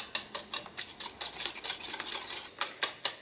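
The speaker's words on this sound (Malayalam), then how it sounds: "ഇപ്പോൾ മുട്ട നമ്മൾ നന്നായിട്ട് ബീറ്റ് ചെയ്തെടുത്തിട്ടുണ്ട്" Eggs and sugar beaten in a large bowl for Malabar mutta pola, a steady run of quick whisking and stirring strokes clattering against the bowl, close and fairly clear, with no talking.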